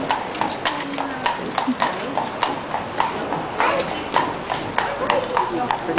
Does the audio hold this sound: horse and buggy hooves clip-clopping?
yes